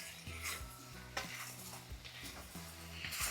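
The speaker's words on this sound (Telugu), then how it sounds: "ఈ పన్నీర్ పీసెస్ని వేసేయాలి లాస్ట్లో వేసి మొత్తం ఒకసారి బాగా మిక్స్ చేసుకోవాలి" Paneer pieces are stirred into a creamy restaurant-style gravy for paneer majestic, with spoon scrapes and clinks against the pan over a soft sizzle, close by.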